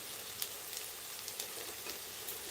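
Cluster beans curry being stirred in a pan, a steady soft sizzle with faint scraping and clinking spoon taps at intervals, moderately quiet and without voices.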